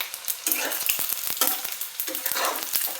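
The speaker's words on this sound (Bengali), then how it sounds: "অন্যদিকে আমার মাছটাও ভালো মতো ভাজা হয়ে এসেছে" Fish fries in hot oil for pickle, a loud close sizzle broken by repeated sharp spatula scrapes and clacks in an irregular rhythm, with no voices.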